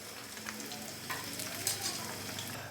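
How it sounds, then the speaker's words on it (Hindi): Crispy masala fish fries in ghee for a Lahori fish fry, a soft, fairly quiet sizzle with light crackles and a few stirring or handling clicks, no talking. "फ़िश को मैंने तकरीबन 8 से 10 मिनट के लिए बहुत ही अच्छे से फ्राई कर लिया है"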